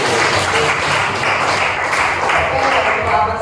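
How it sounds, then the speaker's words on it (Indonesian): A class of students applauds together for a classmate's correct answer, dense steady clapping filling the room with some chatter mixed in throughout. "Kita beri tepuk tangan dulu."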